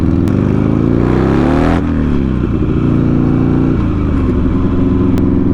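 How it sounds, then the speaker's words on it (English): A Buell XB9S motorcycle with an opened-up exhaust revs loudly and close, its engine note sweeping up and dropping back several times in a throaty, continuous roar. "It sounds good with this opened up exhaust."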